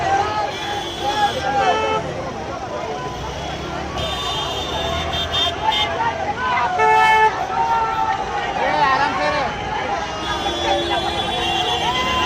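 Street celebration by Ambedkarite followers blocking a road at Chunabhatti: a dense crowd babble mixed with repeated vehicle horn toots and traffic rumble, loud and continuous, with voices shouting throughout.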